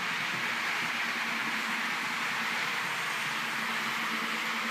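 An ALCO PA-1 model locomotive runs steadily along its track pulling Pennsylvania Railroad passenger cars, a continuous smooth rumble and whir with a faint steady hum, no talking.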